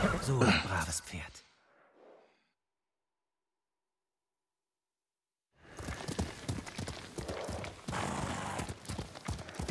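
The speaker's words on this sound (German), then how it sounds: "So ein braves Pferd." A horse in the video game Ghost of Tsushima trots with rapid clip-clopping hooves and gives a whinny, then falls silent for a few seconds before hoofbeats resume with busier game sounds.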